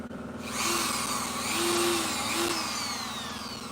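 A Dremel rotary tool whirs steadily against wood during a chainsaw-carved bear project, a close continuous high buzz that rises slightly in pitch and load midway through, with no talk.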